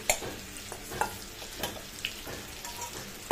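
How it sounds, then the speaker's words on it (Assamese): A spatula scrapes and stirs soya chunks and potatoes sizzling in a hot pan, with a few sharp clinks against the metal over a steady frying hiss. "গোটেইখিনি আকৌ অলপ লৰাই দিলোঁ"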